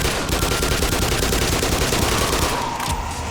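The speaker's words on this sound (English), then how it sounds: "we're gonna get back to the old MP5, because I'm using a shotgun at ranges that doesn't make sense to use a shotgun at" MP5 submachine gun fire in the video game Black Mesa, a dense unbroken burst of rapid automatic shots that stays loud and close for its whole short length.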